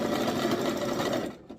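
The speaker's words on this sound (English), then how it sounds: "So I'm going to sew the lining" Sewing machine stitching a dress lining, a steady close whirring hum that runs continuously before tapering off at the end.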